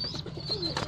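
A Chinese pigeon gives a short, low, throaty coo at close range, heard alone and faint against a quiet loft.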